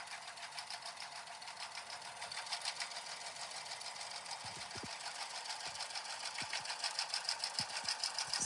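Embroidery machine tacking down a vinyl applique piece, stitching at a fast steady rhythm with a faint hum, a few soft thumps underneath, with no talking.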